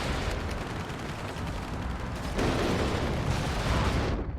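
Tank gunfire and battle noise in the real-time strategy game WARNO, a dense continuous rumble of cannon blasts and explosions that grows louder midway and cuts off at the end.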